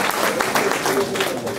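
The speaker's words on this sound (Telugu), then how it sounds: "ఒక్కసారి ఆ అమరులందరికీ చప్పట్లతో జోహార్ అర్పిద్దాం." An audience at a Telangana awards ceremony applauds in tribute to martyrs, a dense, steady patter of many hands clapping with a voice speaking over it.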